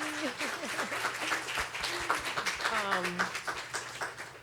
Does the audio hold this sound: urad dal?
no